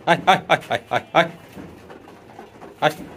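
Pigeons at close range give a quick series of short throaty calls, followed by a quieter stretch and one more call, with no one speaking.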